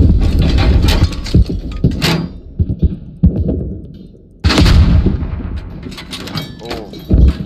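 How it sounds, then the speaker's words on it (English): Gunfire crackles in the military shooter game Squad, with rounds passing close overhead: loud, dense bursts and sharp reports arriving in waves, and a heavy cluster of shots near the middle and end, mixed with voices talking. "Flying rounds right over us"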